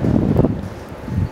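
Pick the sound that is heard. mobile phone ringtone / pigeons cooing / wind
wind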